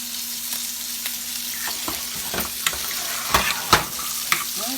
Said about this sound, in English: You could stir this with a whisk if you wanted to.